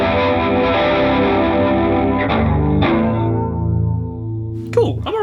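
Electric guitar on the middle pickup through a Bias FX 2 Pop preset with chorus and reverb rings out as sustained, effected chords and fades away, followed by a brief voice.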